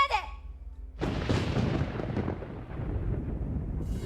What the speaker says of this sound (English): I absolutely love the thunder effect right before the song kicks in